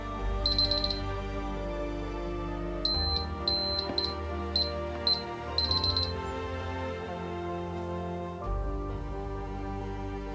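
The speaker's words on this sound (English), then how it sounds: "keypad beep turns on" Electronic beeps from an ICT Protege Elitesuite security keypad, several short high tones in a quick cluster and then more groups, heard clearly over a steady low hum.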